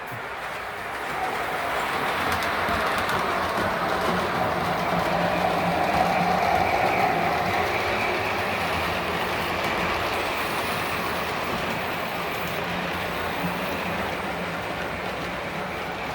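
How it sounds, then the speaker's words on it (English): A model train running steadily on its track outdoors by a river, a continuous rumbling rail sound with faint clatter that holds at a constant level for the whole stretch, with no talking. "I'm just sitting here running a train today."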